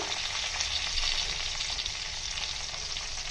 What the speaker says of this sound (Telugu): ఇప్పుడు మనం కట్ చేసి పెట్టుకున్న మొక్కజొన్న ముక్కల్ని దీంట్లో వేసేసి ఈ తాలింపు అంతా ఆ ముక్కలు బాగా పట్టేటట్టుగా కలుపుకోవాలి